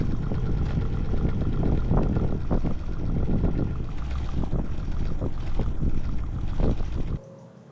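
A motor-assisted Stirling engine bicycle rolls along with a loud, continuous, rattling rumble and wind noise, then cuts off abruptly just before the end.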